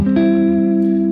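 A guitar sounds a sustained triad chord in C that rings on, with a second chord struck soon after and left to decay, played alone with no talking.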